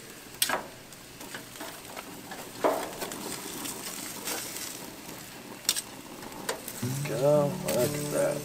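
Thin freshwater drum fillets fry in a pan with a close, steady sizzle, punctuated by a few sharper crackles and stirring sounds. A short tonal sound rises near the end.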